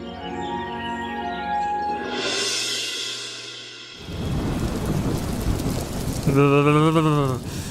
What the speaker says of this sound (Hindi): चारों तरफ बारिश बढ़ती जा रही है